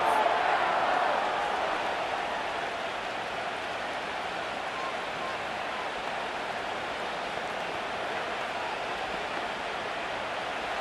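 Steady roar of a stadium crowd during a Lions vs Packers football game in Madden 25, a constant wash of cheering noise, slightly louder at the start and then holding even throughout.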